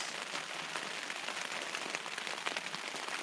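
Steady rain pours onto a mountain pass along the Dalton Highway, a dense, even hiss of drops with no pauses, close and fairly loud throughout.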